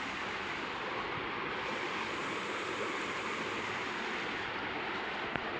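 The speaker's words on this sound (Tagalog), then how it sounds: "Yan ang sapa sa Kanyupay." A creek in Canyupay flows steadily, a broad even rush of water that stays close and constant throughout with no voices over it.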